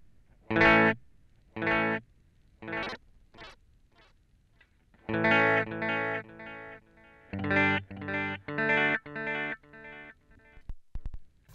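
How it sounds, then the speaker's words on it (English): Bright guitar notes through a Sonicake amp's digital delay ring out in short phrases, each followed by clean repeating echoes that trail off, with a few quiet gaps between passages. "Round past 12 o'clock is the digital delay, which is just pristine and clear until it disappears."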